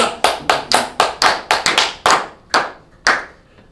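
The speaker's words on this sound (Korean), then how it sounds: "박수 한번 칩시다" A congregation at a church revival service claps about a dozen sharp, distinct handclaps, quick and even at first, then slowing and spacing out toward the end, with no talk.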